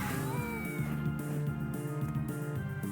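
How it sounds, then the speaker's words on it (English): Several cats meow in Castlevania: Portrait of Ruin, a run of clear, overlapping meows and yowls against the game's music. "So many cats."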